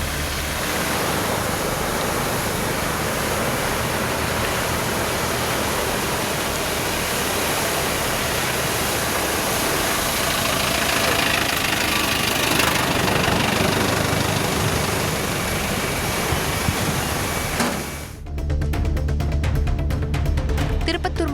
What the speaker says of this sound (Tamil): குடிநீர் திடீரென அதிவேகத்தில் வெளியேறியது. ஒரு பனைமர உயரத்திற்கு தண்ணீர் விண்ணை நோக்கி பீச்சி அடித்தது.